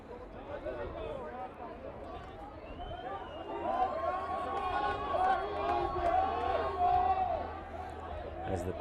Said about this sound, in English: crowd is also getting in on the action now. Just making sure that they voice their opinion for what it's worth.